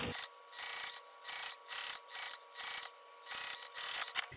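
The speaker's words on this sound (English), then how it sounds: "I'm going to sew this time with the full seam allowance given in the pattern." Sewing machine stitching a fabric seam at the full pattern seam allowance, running in repeated short bursts of mechanical whirring separated by brief pauses, close and fairly quiet with no talking.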